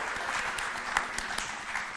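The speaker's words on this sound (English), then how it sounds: "Okay, go ahead and applaud. They deserve applause." Audience applause fills a gala hall, a dense, steady wash of many hands clapping at an even level for the whole stretch, with no voices standing out.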